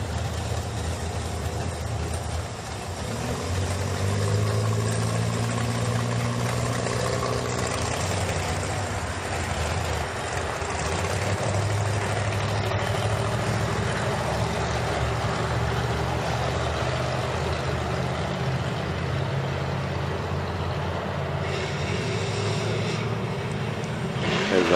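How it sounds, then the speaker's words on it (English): A Chevrolet El Camino street car idles at a Route 66 cruise gathering, its steady low engine rumble running continuously amid broad crowd and traffic noise, with a slight rise in engine tone early on. "There's that little El Camino."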